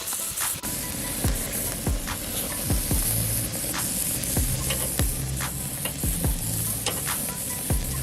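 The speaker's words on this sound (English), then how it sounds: "The sounds and smells of a searing steak are truly one of a kind." Steak sears in a hot pan with a loud, continuous sizzle and crackling spatter, close and unbroken, with occasional scraping clicks and no voices.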